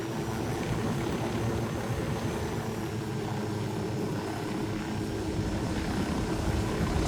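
Steady, droning engine and rotor roar of an aircraft coming in to land in Ghost Recon Wildlands, loud and continuous with a faint high whine, and no one speaking.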